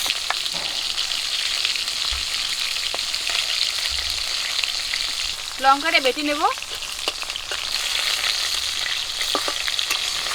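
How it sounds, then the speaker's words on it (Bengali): Large desi river boal fish pieces frying in oil, giving a continuous close crackling sizzle, with a brief spoken phrase partway through. "মাছগুলো ফুটে ভাজার সময়"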